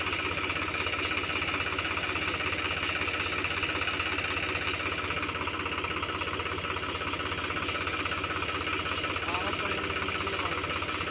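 A farm tractor engine runs steadily at a village in Gujarat while fodder is readied for livestock. It makes a loud, even, throbbing rumble that never lets up, and voices sit faintly underneath.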